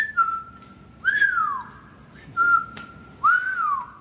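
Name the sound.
whistling imitated by voice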